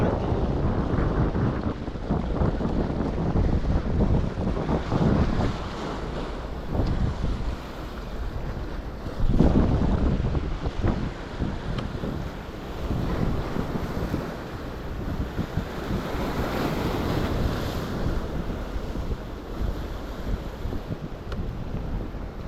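Strong wind buffets and roars steadily across the microphone at a jetty while fishing, gusting louder in places, with the wash of water beneath it and no voices.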